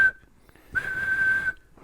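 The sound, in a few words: whistle being blown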